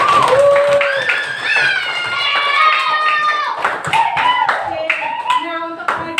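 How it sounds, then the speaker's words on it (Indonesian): A school class claps hands together at the end of an unplugged coding lesson, sharp hand strikes beating repeatedly while children's voices chant and talk over the clapping throughout. "coba semuanya kita tepuk tangan untuk kita semua hari ini"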